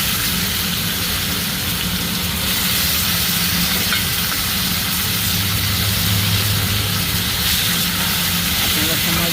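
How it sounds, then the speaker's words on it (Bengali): Chopped onions sizzle in hot oil for a crab malai curry, a steady loud hiss and crackle from the pan that runs on without a break, close by. "তেল গরম হয়ে গেছে, তেলে পেঁয়াজ দিয়ে দিলাম।"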